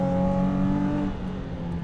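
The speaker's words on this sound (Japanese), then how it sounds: "エンジンいいね、コバちゃんちの" A tuned Nissan Z34, still in street-legal spec, revs hard during a touge mountain run. Its engine drones loud and close with a strong steady tone that eases off briefly partway through, then holds again, with no voices.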